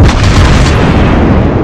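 A warship's cannon fires in the mobile game World of Warships Blitz, one very loud, close boom with a heavy broadband blast that rolls out into a long rumbling decay, no talking.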